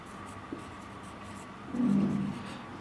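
Chalk or marker writing on a board during a class 11 maths lesson on sets: faint scratchy strokes in a quiet room, with a brief louder squeaky stroke near the end.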